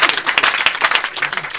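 A church congregation bursts into dense, loud applause in praise of the Lord, rapid overlapping claps with a few cheering voices mixed in, filling the whole short moment.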